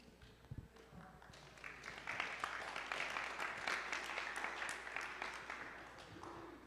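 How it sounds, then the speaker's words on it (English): An audience at a community information session applauds, faint and somewhat distant clapping that swells after a quiet start and holds steady before easing slightly. "I think that applause was for me"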